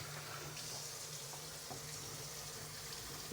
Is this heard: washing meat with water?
yes